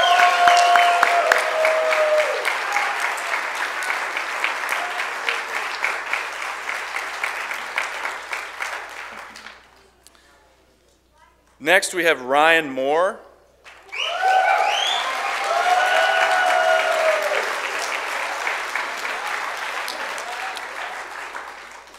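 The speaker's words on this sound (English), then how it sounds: "Please give Matthew and his family a big round of applause." Church audience on Senior Sunday applauds graduating high school seniors, loud sustained clapping that fades out, a brief spoken announcement, then a fresh round of applause rising and continuing.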